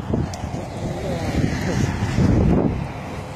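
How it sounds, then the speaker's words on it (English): Outdoor wind while walking around Seeley Lake, a steady broadband rush buffeting the microphone and swelling into a stronger gust near the end, with no clear speech over it. "So a big gust of wind just threw his fucking hat off his fucking head."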